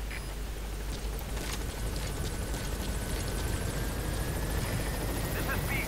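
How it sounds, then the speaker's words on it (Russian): A video-game helicopter in Metal Gear Solid V: The Phantom Pain drones with a steady, low rhythmic thrum, continuous, loud and close, with faint tonal whines above it. "Опять этот вертолет"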